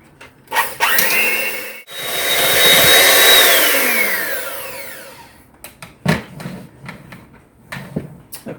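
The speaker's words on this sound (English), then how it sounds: "we're going to blend it really, really well. If you have a KitchenAid, you can use your KitchenAid or just your electric mixer" A KitchenAid electric mixer whirring through peeled squash, a steady motor whine that rises and falls in pitch over several seconds, close and loud, with clatter and knocks before and after.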